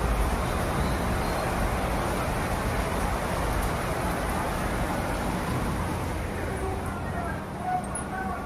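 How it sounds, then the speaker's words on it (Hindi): Steady rain falling outdoors, a constant dense hiss of drops on surfaces lasting throughout, with a faint roadway rumble underneath. "हमारे यहाँ बारिश हो रही है।"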